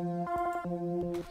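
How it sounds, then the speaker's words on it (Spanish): A synth tone chopped by a Gross Beat effect into rapid stuttering gated bursts, the sustained note repeatedly cut and retriggered in a rhythmic glitchy pattern. "meterle un gross beat para que sonase así como si estuviese rayando"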